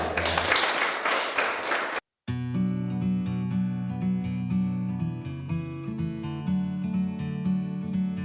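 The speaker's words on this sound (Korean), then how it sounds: "이 순간에 우리는 서로에게 격려의 박수를 한번 쳐줘야 됩니다" An audience at a literary talk show with a poet claps in a dense, steady burst of applause for about two seconds, then it cuts abruptly to music.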